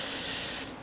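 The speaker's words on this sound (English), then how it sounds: "We're going to spray paint this white." White spray paint hisses from an aerosol can in one steady, close burst that tapers off slightly at the end, with no other sounds.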